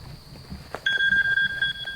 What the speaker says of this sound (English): there's my other alarm